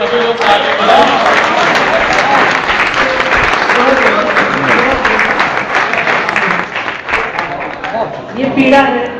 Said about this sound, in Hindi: एक बार खड़े हो गए सभी लोग ताली बजाएं।